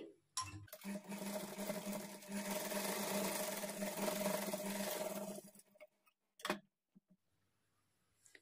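A domestic sewing machine runs in one sustained burst of stitching through lehenga blouse fabric for a child's outfit, with a steady whirring motor and needle rhythm, then stops, followed by a few brief handling clicks.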